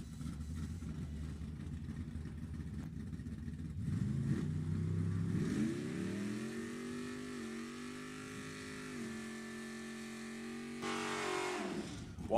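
Drag racing cars at Sacramento Raceway in a Pro ET bracket race, including a small block Chevy 84 Camaro and a big block 79 Malibu, rev loudly and launch down the strip, with engine tones climbing as they pull away and a second surge near the end.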